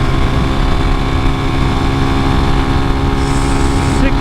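A 250cc enduro motorcycle at full throttle in fifth gear on a straightaway, its engine droning steadily and loudly throughout, with a constant roar of wind and road noise, and a brief higher whine near the end.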